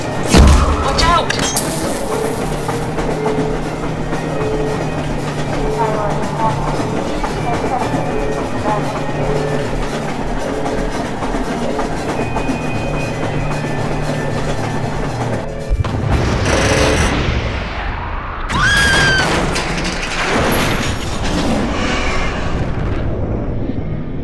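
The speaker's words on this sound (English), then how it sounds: "The explosion caught the carts" Explosion in Half-Life 2 catching a string of mine carts, a loud blast that settles into a dense, continuous rumble with clattering debris, then a fresh burst of crashing impacts and scraping near the end.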